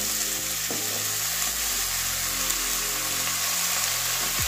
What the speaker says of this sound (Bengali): মাছের মাথাটা কষানো হয়ে গেছে, লেগে যাচ্ছে। এবারে ধুয়ে রাখা বাঁধাকপি আলু দিয়ে দেবো।